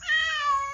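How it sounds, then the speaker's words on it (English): A large male cat gives a single clear, drawn-out meow, close and fairly loud, rising then trailing off with no other sound. "That's my cat."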